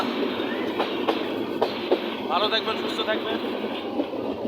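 The Rangpur Express train rumbles along the rails with rhythmic clatter and occasional squeaks, while a person speaks over the steady noise.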